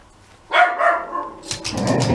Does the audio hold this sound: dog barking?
yes